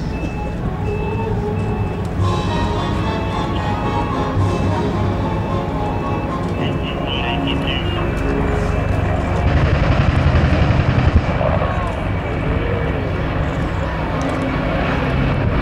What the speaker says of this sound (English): It looks like we're going to have a Mi-24 Hind scraping pass.